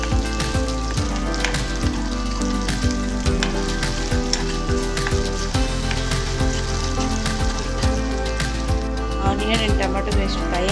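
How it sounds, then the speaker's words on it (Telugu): Ginger garlic paste frying in a pan for a Konaseema-style brinjal curry gives a steady, loud sizzle throughout, with scattered crackles and faint utensil taps, no talk. "అల్లం వెల్లుల్లి పేస్ట్ వేసి పచ్చివాసన పోయే వరకు ఫ్రై చేసుకోవాలి."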